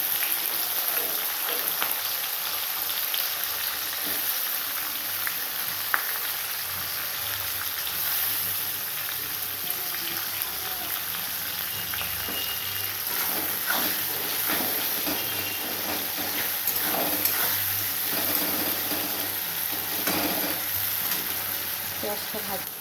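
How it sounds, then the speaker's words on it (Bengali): Onions fry in a pan with a continuous crackling sizzle and hiss, heard up close throughout with occasional stirring and scraping. "এই যে পেঁয়াজটা লাল লাল করে ভেজে নিয়েছি, হয়ে গেছে পেঁয়াজটা ভাজা।"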